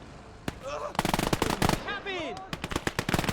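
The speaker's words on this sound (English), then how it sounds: "Bit of a shootout." Gunfire in a World War II shootout in Gates of Hell Ostfront, with rapid bursts of machine-gun fire and sharp single shots cracking in quick succession, loud and close, and no talking.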